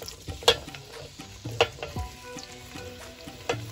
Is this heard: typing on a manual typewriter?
no